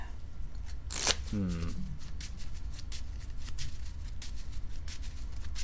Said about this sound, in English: I'll shuffle and draw 3